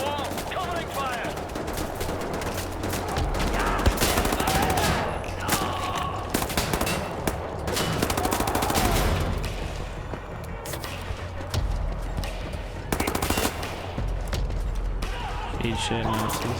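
Sustained bursts of rapid gunfire from a shooter video game with a fight against Nazi soldiers around a defended wall, dense, loud and nearly continuous for the whole stretch, with voices talking underneath the shots.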